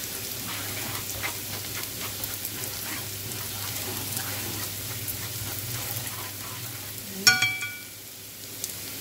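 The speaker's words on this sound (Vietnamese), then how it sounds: "các bạn sẽ cho cái phần bột cà ri vào để các bạn xào" Curry powder sizzles as it is stir-fried with golden onion and lemongrass for a vegetarian curry, a steady soft frying hiss with occasional stirring scrapes and a brief utensil clank near the end, no talking.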